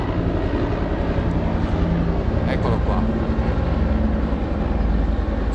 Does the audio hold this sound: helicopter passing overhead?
yes